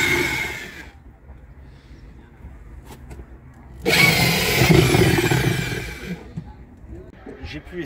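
Power drill boring a hole during a gas hookup job in Spain: a loud rising whine with a grinding tone for about two seconds, between quieter stretches that contain a few clicks and some speech.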